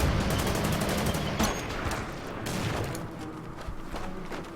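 Dense battlefield gunfire in the Order of Battle: Sandstorm strategy game at the Kasserine Pass, a sustained loud rattle of rifle and machine-gun fire with scattered sharper cracks over a continuous rumble.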